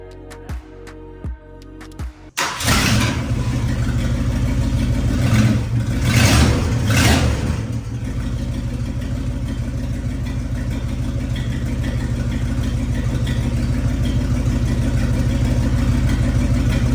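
A Ford Thunderbird being restored on a budget cranks briefly, then fires up and runs loud and close, revving a couple of times before settling into a steady, rough idle that carries on alone.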